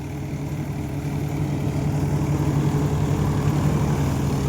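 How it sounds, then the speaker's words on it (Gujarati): A farm tractor engine labours under heavy load while working through thick green crop, a steady, loud, droning hum that builds slightly and holds without talk. "આપણું ટ્રેક્ટર હમણાં દાબમાં જ હાલે છે"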